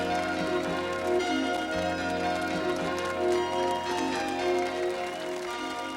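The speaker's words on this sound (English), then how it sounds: "Applause continued strong and loud." Applause for Genevieve the dog in a Madeline cartoon set in Paris, a steady, fairly loud crowd clapping mixed with bright bell-like music that runs throughout.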